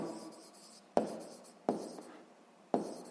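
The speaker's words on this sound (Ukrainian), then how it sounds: "Записуємо відповідь." Pen writing on paper in a sixth-grade math exercise, a soft continuous scratching broken by three sharp taps as strokes start, close and fairly quiet with no talking.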